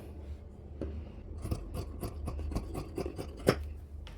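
Scissors snipping through an old t-shirt to make a homemade bag, a steady series of close, crisp cuts roughly every few tenths of a second, with no voices.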